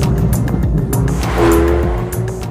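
A 2018 Hyundai i30 N pulling uphill on a mountain road, a loud close low engine growl with a surge of revs midway and rhythmic bursts of wind buffeting over it.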